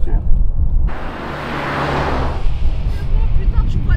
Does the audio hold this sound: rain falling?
no